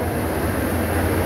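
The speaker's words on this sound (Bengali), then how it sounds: "কমলাপুর রেল স্টেশনে আরও একটি ট্রেন প্রবেশ করেছে।" A train rolls into Kamalapur railway station in Dhaka, a steady broad low rumble with a constant hum, continuous and fairly near, with no voices.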